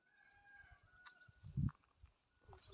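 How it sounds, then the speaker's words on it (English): Cockerel crowing on a farm, a faint distant call with a drawn-out tonal note heard over quiet outdoor background, followed by a few soft low thumps nearby. "The cockerel's a bit late in the day"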